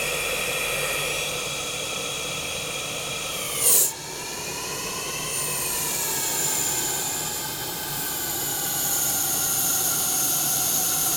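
Heavy gas hissing into a running hard disk drive, a steady broadband hiss mixed with a high whining tone that shifts in pitch, with a brief sharp burst partway through.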